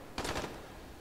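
Rifle fire in the zombie game Dying Light comes as a quick burst of several rapid cracking shots close up, followed by a short pause and then one more sharp shot.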